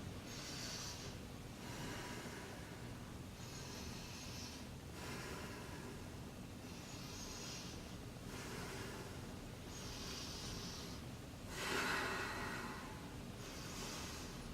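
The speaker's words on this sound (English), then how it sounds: "I'm just gonna start breathing." A person breathing in an exaggerated way while standing in poor posture, with slow, deep, airy inhales and exhales alternating in a regular rhythm roughly every second and a half, close to the microphone with no talking.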